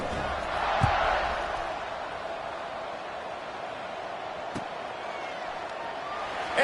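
A stadium crowd roars steadily at kickoff in the NCAA 26 college football video game, a broad continuous murmur with a brief thump near the start and faint commentary voices underneath.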